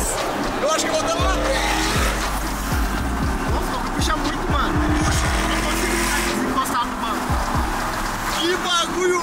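A car accelerating hard with repeated rising engine revs, tire squeal and skidding, loud and close, as voices talk excitedly over the roaring engine before it cuts off near the end.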